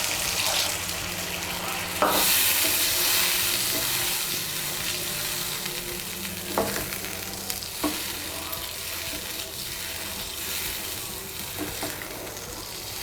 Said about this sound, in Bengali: আমি এর মধ্যে 1 কাপ গরম জল দিচ্ছি।